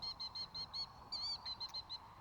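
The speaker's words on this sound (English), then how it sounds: "That bird in the background that you can hear is a killdeer." A killdeer calls in an orchard, repeating clear, high, piping notes in a steady rhythm a short way off over a faint outdoor hiss.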